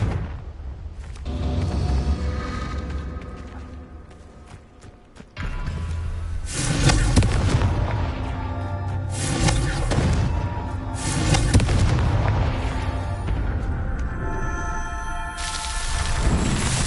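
Repeated Confringo fire-spell blasts in Hogwarts Legacy, loud booming explosions arriving in several heavy bursts with crackling tails and brief quieter gaps between them.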